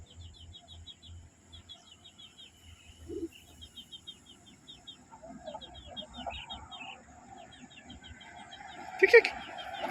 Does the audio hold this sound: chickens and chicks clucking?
yes